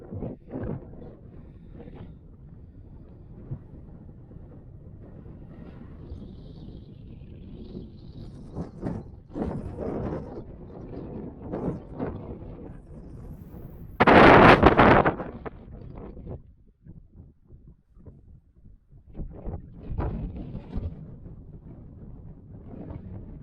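Gusty wind buffets the microphone outdoors at a UK viewpoint, with low rumbling and a loud burst of blustery noise midway before it eases off.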